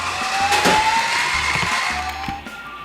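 A voice-controlled toy remote-control car surges forward in turbo mode. Its small electric motor gives a close, loud, steady whine that rises slightly in pitch and then eases off near the end.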